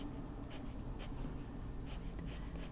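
Soft, close scratching strokes of a pen or pencil on paper come in short repeated bursts while shadows are coloured in on an adult colouring page.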